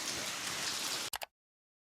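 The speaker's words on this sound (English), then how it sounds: "in a cave in very, very heavy rain" Very heavy rain heard from inside a cave, a dense loud roar of drops for about a second, then two brief sharp knocks before it cuts to silence.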